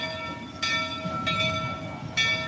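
Engine 41, a farm ride train, running with a sustained tonal whistle or horn drone and repeated short bursts of hissing noise in a steady rhythm, moderately faint with no talk.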